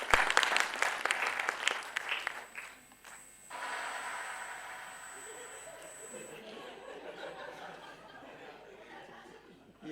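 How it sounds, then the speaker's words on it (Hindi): Studio audience applause at a comedy show, a burst of clapping with laughter and chatter, loud at first then easing into softer crowd noise with a steady electronic tone above it. "जोरदार तालियां प्लीज"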